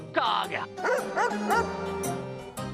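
A dog in an animated story, a black dog on a dark road in front of a black chariot drawn by black horses, gives a few yelping, whimpering barks in quick succession, close and clear.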